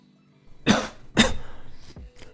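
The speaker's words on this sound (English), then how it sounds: "Coughing like a mofo." Two sharp, harsh coughs a half second apart, close up, followed by a rough throat-clearing rasp.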